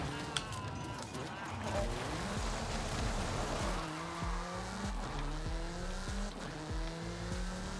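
A car in the Forza Horizon 5 racing game speeds along with a loud revving engine that climbs through gear shifts, and its tires squeal through the run while a voice talks over it.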